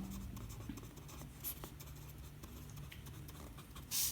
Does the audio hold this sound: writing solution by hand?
yes